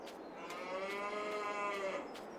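Cattle on a farm in a farming video game, one long, drawn-out moo rising and holding before fading, fairly clear and alone.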